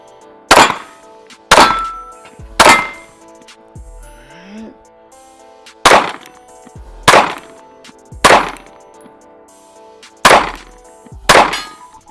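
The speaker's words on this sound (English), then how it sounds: "we got some new steel on the range, and we got some gong action going on down there" Gunshots ring off steel gong targets on a shooting range, nine sharp metallic clangs spaced about a second apart, each decaying quickly, with a brief faint voice in one gap.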